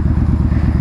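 A Yamaha Bolt motorcycle engine idles close by, a loud, steady low-pitched throb with a rapid even pulse and no talking over it.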